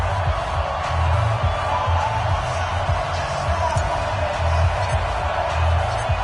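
A stadium crowd roars in a steady wash before an NFL game between the Detroit Lions and Indianapolis Colts in a football video game, a loud, continuous hum of fans with no distinct pauses.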